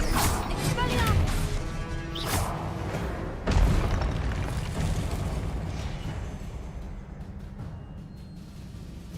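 Casting the Expelliarmus spell in Hogwarts Legacy produces a sharp magical burst and boom amid a busy duel's clashing effects, then trails off into a lingering low rumble.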